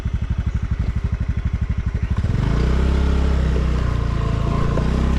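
A motorcycle engine chugs in a steady low pulse, then revs up hard and roars continuously as the bike pushes through deep sand on Koh Rong, loud and close.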